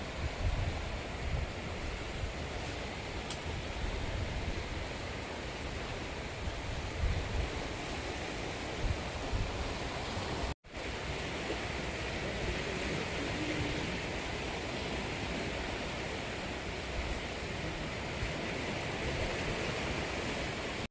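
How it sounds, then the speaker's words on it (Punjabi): Sutlej river water rushing against an eroded bank, a loud continuous roar of turbulent flow that fills the whole stretch without a break. "ਇੱਥੇ ਹੂੰ ਪਾਣੀ ਵੱਜਦਾ ਆ ਰਿਹਾ"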